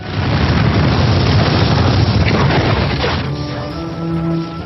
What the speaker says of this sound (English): late one night there was a massive explosion